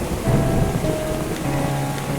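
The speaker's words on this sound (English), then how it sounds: "it's raining, bro. This sucks." Steady rain pours down in the Roblox game After 3 AM with a low rumble underneath, constant and fairly loud throughout, no voices.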